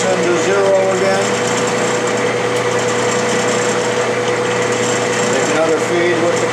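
A metal lathe cutting an Acme thread, its motor and gearing giving a steady, loud mechanical whine and hum that runs unbroken throughout, close to the machine.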